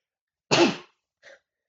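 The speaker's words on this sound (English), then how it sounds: "Ugh, I had a sneeze right there." One loud, close human sneeze with a sharp explosive burst, then a brief faint exhale or sniff after a short pause, in a quiet room.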